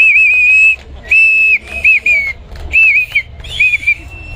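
A whistle is blown loudly and close in four or five shrill, wavering blasts separated by short pauses, with faint crowd noise beneath.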